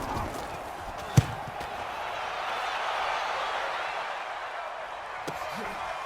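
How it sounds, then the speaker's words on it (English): A single dull thump of Dustin Colquitt punting a football at an NFL Dallas Cowboys game, heard faintly over a steady stadium crowd roar while a commentator talks throughout. "Here's Dustin Colquitt now, as he'll punt it away for the 2nd time."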